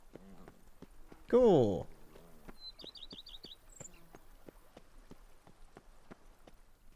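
Geralt's horse Roach in The Witcher 3: Wild Hunt clip-clops at a steady walking rhythm, close and moderately loud, with a brief whinny-like snort near the start, faint bird chirps and a single short spoken word.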